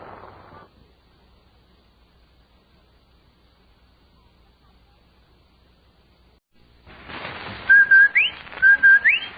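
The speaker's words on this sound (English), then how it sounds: "That whistle. That's the Rinso White whistle." The Rinso White whistle from an old radio broadcast: after a long near-silent pause, two loud rising whistled phrases sound out close together, preceded by a brief bit of voice at the start.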